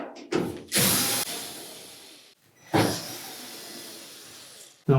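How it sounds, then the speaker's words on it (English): A power screwdriver whirs in short bursts while backing out screws from the support piece of a Samsung dryer, each run close and loud with brief pauses between them. "we'll remove this support piece by taking out 2 screws on either side"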